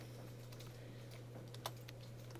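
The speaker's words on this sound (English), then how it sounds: "This is a bunch of typing." Rapid clicking keystrokes on a computer keyboard while Java code is entered, steady and close, with a low constant hum underneath and no talking.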